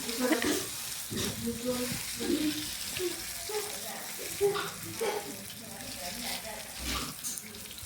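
Spoonfuls of sweet punugulu batter bubble and crackle in hot oil, a moderate frying sizzle that runs under a person talking.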